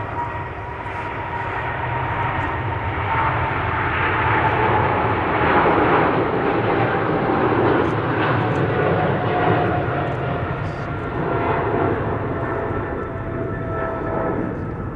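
A Qatar Cargo aircraft departing Amsterdam Schiphol for Doha, a loud sustained jet engine roar that swells and holds steadily throughout, heard without talk.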